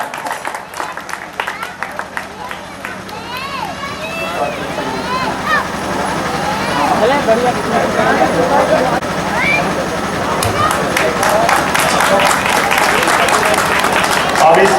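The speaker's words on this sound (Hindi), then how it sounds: "आइए और थोड़ा ताली भी आप लोग पीटते रहिए भाई" Crowd applause at a Suheldev Jayanti gathering, with a voice speaking over it at first and the clapping swelling into a dense, steady ovation toward the end.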